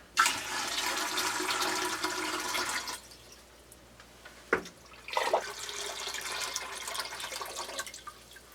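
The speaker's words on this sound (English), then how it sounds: "I can hear the water starting to drip down as it goes through the filters" Water rushes loudly into a gravity water filter for a few seconds, then quiets to a soft trickle with a sharp clunk and splashing as it begins dripping down through the filters into a lower clean water reservoir.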